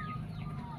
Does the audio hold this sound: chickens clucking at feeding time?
yes